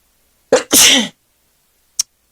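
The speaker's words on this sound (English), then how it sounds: "I have to sneeze." One loud, close sneeze: a quick sharp intake followed by an explosive burst, then a brief faint click after a pause.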